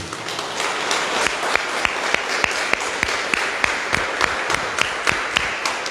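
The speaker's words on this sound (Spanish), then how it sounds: "Vamos a darle un fuerte aplauso a Jesucristo" A small class group gives a round of applause, individual hand claps clearly audible as a brisk, fairly even run of sharp claps close by at moderate volume.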